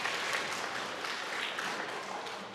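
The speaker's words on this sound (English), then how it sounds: "You want to clap for everyone?" Applause for students at a school chapel service, a steady, even patter of many hands clapping at moderate volume across the whole stretch, with no talk over it.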